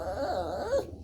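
A nervous dog whimpers softly in a brief, high, wavering whine, close and quiet, during a perch fishing outing in Wabasha, Minnesota.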